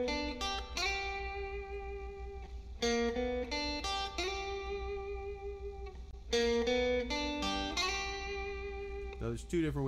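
An electric guitar plays a blues lick with a slide, clean bright notes in short phrases with pauses between them, close and alone.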